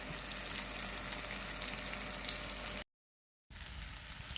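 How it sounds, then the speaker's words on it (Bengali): Boiled pasta with added spices sautés in a pan, giving off a steady, close, hissing sizzle. The sound cuts out completely for a moment, then the sizzle resumes. "একদম কষানো হচ্ছে খুব ভালোভাবে"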